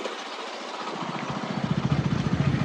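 Motorbike ridden along a road toward Anjani Mata temple near Punrasar, engine rising from quiet into a steady, close, throbbing drone with regular pulses.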